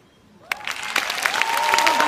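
An audience applauds new Mercedes owners on stage at a forum. The clapping bursts in after half a second and swells into a dense, sustained round, with a voice carrying over it.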